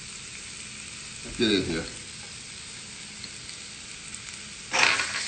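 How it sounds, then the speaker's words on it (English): Onions dropped into hot oil for a sautéed swordfish and vegetable dish burst into loud sizzling twice, once early and once near the end, with a quiet hiss between and a brief spoken line. "Now I got my onions going in."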